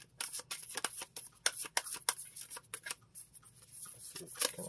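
Tarot cards are shuffled and drawn, giving quick, crisp riffling flutters and soft card slaps in an irregular close burst, with no talking.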